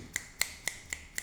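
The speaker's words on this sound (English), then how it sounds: "snap my fingers with my both hands differently, in a different beat" Five crisp finger snaps spaced evenly about a quarter second apart, close and clear against a quiet background.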